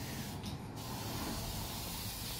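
Spray gun laying a light first coat of paint onto a restored parcel shelf from a Mercedes W210 E55 AMG, a steady close broadband hiss running continuously without pause and with no talk.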